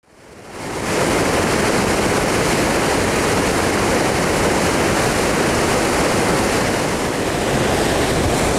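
Water pours over a mill pond dam on the Concord River in North Billerica, a dense, constant roaring rush that fades in over the first second and then holds steady and loud.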